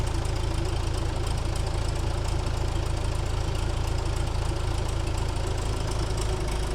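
Old barn-find bulldozer engine running steadily while the blade is worked, a loud, constant, rough diesel rumble with knocking, close and unbroken throughout.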